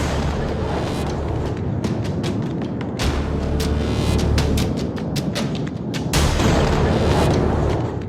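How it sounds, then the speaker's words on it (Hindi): Explosions and bombing in the Russia-Ukraine war: a dense, loud barrage of heavy booms and blasts, one after another, with a constant rumbling roar beneath and no pauses. "धमाके और बमबारी रूस और यूक्रेन की जंग में है"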